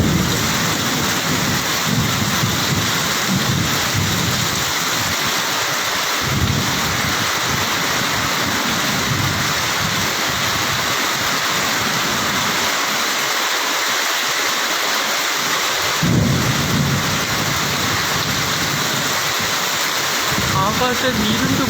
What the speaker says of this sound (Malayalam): ഇടിവെട്ടും മഴയും തകർത്ത മഴയാണ് ഇപ്പോൾ പെയ്യുന്നത് പ്രദേശത്ത്